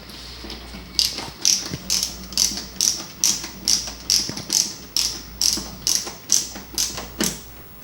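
Screws being turned back into a CrafTap 2.0 during reassembly, giving a steady run of about a dozen crisp ratcheting clicks spaced roughly every half second, close and loud with no talking.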